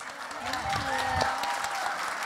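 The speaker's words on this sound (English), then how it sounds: "Round of applause for the voice actors." An audience at a convention voice actor panel applauds, a soft, fairly distant patter of clapping with a voice speaking over it.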